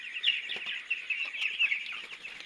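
A dense chorus of high-pitched chirping from 14-day-old chicks, continuous and fairly close, with occasional small taps and knocks.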